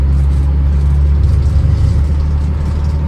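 An Austin Allegro with an unfixed cooling-system fault, heard from inside while driven out for a quick spin, giving a steady, loud, low engine rumble throughout with no talk.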